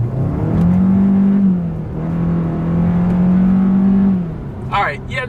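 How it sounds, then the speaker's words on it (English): A 2020 Hyundai Sonata engine drones while paddle-shifting down through the gears, holding three steady pitches in succession with short dips between. A brief voice is heard at the very end. "Let's go ahead and just hit the paddle shifters. That puts you in paddle shift mode, and let's downshift."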